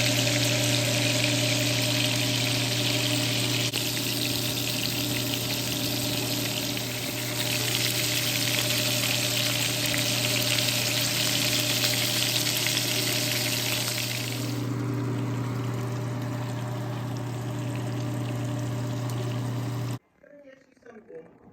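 Beef and bacon burger patties frying in a pan, a steady loud sizzle with a droning hum beneath, continuing for about twenty seconds before cutting off abruptly.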